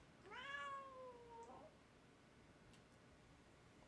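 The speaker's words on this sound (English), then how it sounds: "I don't know if you can hear, my cat is meowing." A pet cat lets out a single drawn-out meow, close and clear, rising then falling before fading into quiet room tone.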